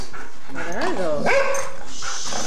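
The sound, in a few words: dog barking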